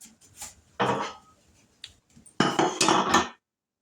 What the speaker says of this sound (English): Let me grab my donut pans.